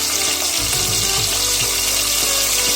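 Chopped onion and medium tomato sauté in a pan, giving a steady loud sizzle and crackle with a few faint stirring clinks, with no voices.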